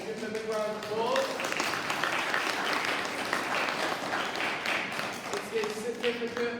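A school assembly audience breaks into loud, sustained applause, a dense wash of clapping that swells and holds for several seconds, with a voice speaking briefly before and after it.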